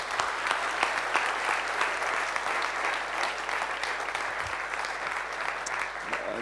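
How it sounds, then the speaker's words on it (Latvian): Audience applause at a Latvian talk event with filmmaker Jānis Cimermanis: steady, dense clapping from a crowd filling the whole stretch, fairly loud and even, with no voices. "Aplausi Jānim Cimermanim"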